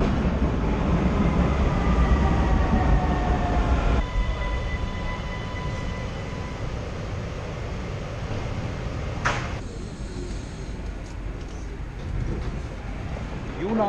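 An underground metro train at a U-Bahn station in Vienna, a loud rumbling roar of cars along the platform with squealing tones that drop away, then a quieter hum with a few clanks and clicks.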